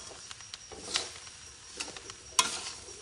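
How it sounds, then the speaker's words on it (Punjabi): A chili mixture is stirred as it fries in a little oil, giving a faint, steady sizzle broken by a few light scrapes and clicks of the stirring utensil, close but quiet. "ਸਾਰੇ ਨੂੰ ਆਪਾਂ ਚੰਗੀ ਤਰ੍ਹਾਂ ਕਰ ਦੇਣਾ ਮਿਕਸ ਤੇ ਥੋੜਾ ਜਿਹਾ ਇਹਨੂੰ ਆਪਾਂ ਪਕਾ ਲੈਣਾ ਆ ਤੇ ਤੇਲ ਆਪਾਂ ਬਹੁਤ ਥੋੜਾ ਪਾਇਆ"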